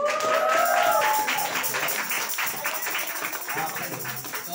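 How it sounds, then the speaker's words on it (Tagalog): A church congregation claps together during a worship service, a dense patter of many hands heard over voices and a brief tonal sound at the start. "Sabay palakpak."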